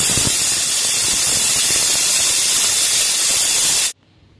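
A pressure cooker whistle on a stovetop, cooking dal, releases steam in a loud, steady, close hiss that cuts off abruptly near the end.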